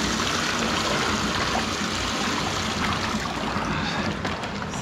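Water splashes and trickles steadily out of a pierced plastic fish transport bag at an aquarium, close and fairly loud throughout, with no speech.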